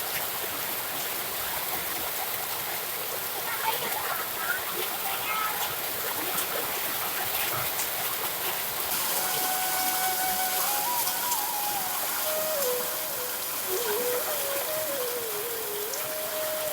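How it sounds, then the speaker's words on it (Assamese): Heavy rain falls while someone shelters at a roadside shop, a steady, even hiss and patter that runs unbroken throughout, with a wavering tonal sound rising over it in the second half. "বৰষুণ জাক এৰিলেই যাম আৰু।"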